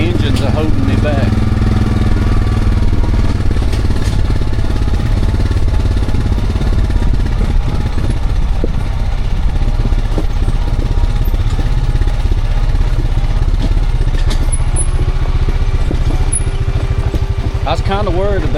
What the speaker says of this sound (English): Right now I'm not even holding the brake, and the engines are holding me back.